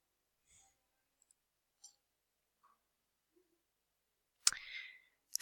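Computer mouse clicks sound as a few faint, sparse, isolated ticks, followed near the end by a louder burst of clicking and rustle.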